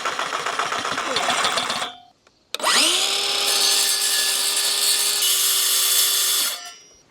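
A reciprocating saw cuts through aluminum deck railing in two bursts: a short rough rasping stretch, a brief pause, then a longer loud, sustained whine with a steady ringing metallic tone before it winds down.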